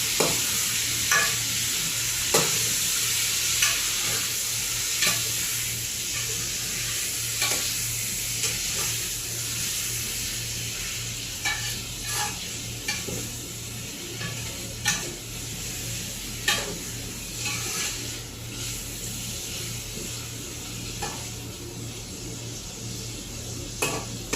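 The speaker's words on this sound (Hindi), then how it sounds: "ऐसी आँच पे इसको तीनों चीज़ों को भूनेंगे" Ingredients for layered biryani fry gently on low heat, a steady soft sizzle with regular spatula scrapes and taps against the pot every second or two, no talking.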